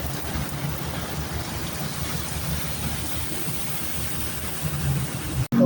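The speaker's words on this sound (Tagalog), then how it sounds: "Tumigil na ng konti yung ulan." Steady heavy rain in Pasay hisses without a break, a dense even wash of sound with no voices, ending in a brief dropout.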